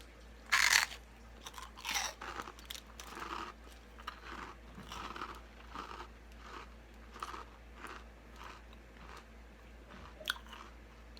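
Close, crisp bites and crunches on a rice cracker during a taste test, a sharp first crunch followed by repeated rhythmic chewing crunches, fairly quiet with no talking.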